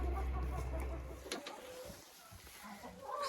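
Chickens in a backyard coop, a brief burst of clucking and rustling near the start, followed by quieter shuffling and faint farmyard ambience, no talking.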